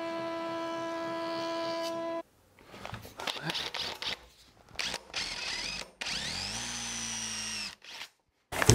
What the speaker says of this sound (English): Here's the good thing about these drills is they don't smash the bricks or disturb the bricks, there's no impact.